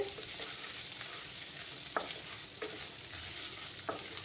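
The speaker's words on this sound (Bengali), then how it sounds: "আদা কাঁচা গন্ধটা না যাওয়া অবধি একটু ভেজে নিতে হবে।" Chopped ginger frying in a pan for a Bengali kachu shak dish, giving a steady soft sizzle throughout with a few sharp utensil scrapes from stirring.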